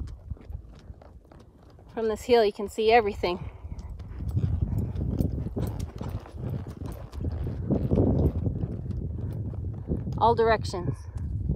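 Horse hooves walking on a hilltop pasture, a steady clip-clop under the wind, with someone talking over parts of it.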